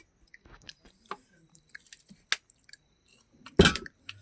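Homemade crispy potatoes of the viral kind are chewed close to the mic, with scattered soft crunches and mouth clicks leading to one louder bite near the end.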